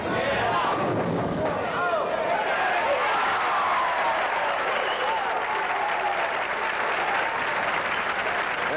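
Bowling crowd at a 1983 PBA King Louie Open tournament applauding a converted spare, a loud sustained wash of clapping that starts with a sharp burst and holds steady, with a broadcast announcer's voice heard over it.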